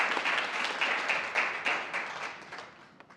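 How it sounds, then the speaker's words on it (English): A graduation audience claps in a hall, a strong burst of many hands that gradually thins and fades toward the end, with no voices over it. "let's give them a round of applause again"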